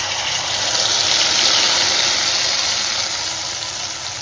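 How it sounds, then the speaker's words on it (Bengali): Ground paste of poppy seed, cashew, raisin and green chili hitting hot frying oil, giving a loud, steady close-up sizzle and hiss that holds evenly throughout with no voices. "যে বাটা মশলাটা ছিল পোস্ত, কাজু, কিশমিশ, লঙ্কা, এইটা এই তেলের উপর আপনাদেরকে দিয়ে দিতে হবে।"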